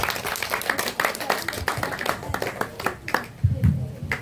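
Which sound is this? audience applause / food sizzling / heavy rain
audience applause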